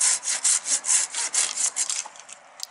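Felco 630 pruning saw cutting through a branch with pull strokes, some overhead: about a dozen quick, rhythmic rasping strokes close by, softening and thinning toward the end.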